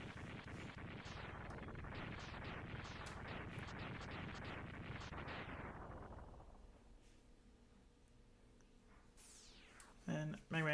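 Explosion from the Megaman X3 video game: a dense, roaring burst of layered blasts sustained for about six seconds, then fading to a quiet hum, with sharp bright electronic chirps near the end.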